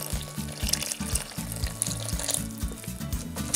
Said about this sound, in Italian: ci versiamo piano piano dell'acqua